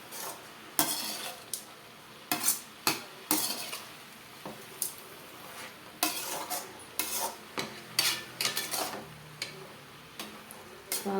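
Greens poriyal stirred in a pot with a metal spoon, giving repeated scraping clanks and soft sizzling in irregular bursts, close and fairly loud, with no talking.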